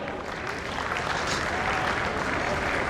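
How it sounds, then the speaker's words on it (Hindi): A crowd claps in steady, dense applause at a Hindi poetry gathering, a national kavi sammelan, holding level throughout without voices on top. "ताली बजाओ।"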